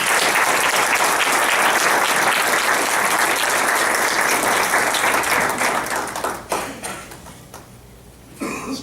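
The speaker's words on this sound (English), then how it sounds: "And folks, let's give them a hand." A crowd at a public forum for state representative candidates applauds for several seconds, dense and sustained clapping that thins out toward the end into scattered claps.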